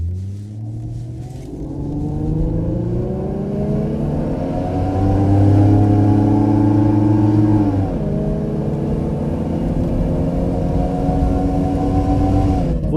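A Ford Sierra GLE 2.3 V6 revs at full throttle, its engine note climbing steadily in pitch, dropping sharply at a gear change, then climbing again, loud and close.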